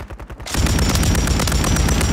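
Sustained automatic gunfire in Warzone, a loud rapid burst that starts abruptly and continues without pause.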